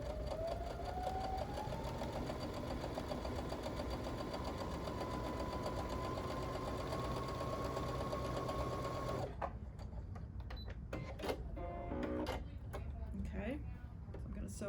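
A sewing machine running steadily at close range as it stitches along a marked line on quilting fabric, a fast even whir that stops partway through, followed by a few soft handling clicks and rustles.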